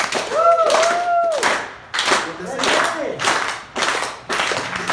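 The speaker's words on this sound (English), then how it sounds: "can we get the slow clap going for our next storyteller, Dan B?" A storytelling night crowd at a bar claps in slow unison, about five loud separate claps roughly a second apart, with a whooping voice and whistle-like tones over the first claps.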